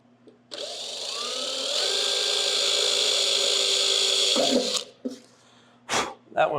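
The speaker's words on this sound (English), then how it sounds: "so I like to drill a little pilot hole with like a little 1/16 drill bit if I can" A small power drill bores a pilot hole with a 1/16 bit while fitting a hood hinge on a 1965 Chevrolet C10, a close, steady high whine for about four seconds that cuts off, followed by a few short knocks and rustles.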